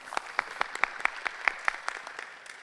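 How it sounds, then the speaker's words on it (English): Audience applause for a speaker at a medical talk on neonatal bacterial meningitis, quiet and sparse, with distinct claps at a fairly regular rhythm heard from a distance. "Please give him a big round of applause."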